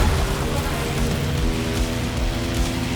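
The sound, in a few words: light rain in The Crew Motorfest video game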